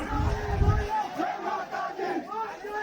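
A large crowd roars and chants at the Nanda-Sunanda Dola Shobha Yatra religious procession in Almora, a dense, continuous wall of voices with a loud low rumble at first.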